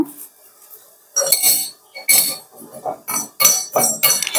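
Seeds being dry-roasted in a metal pan give irregular bursts of scraping and clinking as they are stirred. The sharp strokes are separated by short quiet gaps, and no one speaks.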